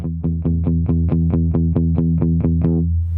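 Electric guitar run through The FX Maniac compressor effect pedal, a fast even series of about a dozen repeated picked notes with a thick compressed tone, played close and alone.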